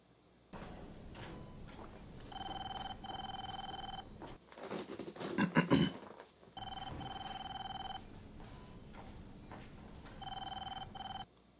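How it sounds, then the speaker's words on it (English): A desk telephone at a hospital rings in repeated electronic bursts, evenly spaced, with a short clattering knock and rustle in the middle as someone fumbles near the desk, no speech. "Just answer the phone."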